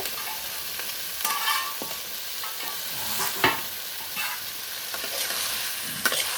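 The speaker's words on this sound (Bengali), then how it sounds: "ডিম আর আলু ভালোভাবে আরেকটু কষে নেব।" Eggs and potatoes sizzle steadily in a pan while a spatula stirs and scrapes, with sharp scraping clicks at intervals over the continuous close frying hiss; no voices.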